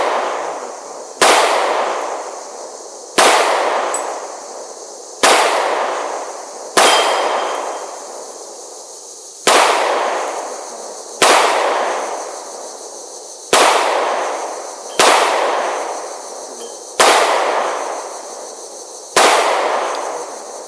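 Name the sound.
gunshots at a shooting range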